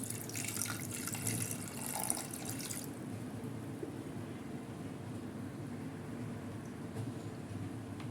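Water poured into a pressure cooker holding goat liver with turmeric for liver fry, a steady splashing stream for about three seconds that gives way to a quieter continuous wash of liquid, with no talking.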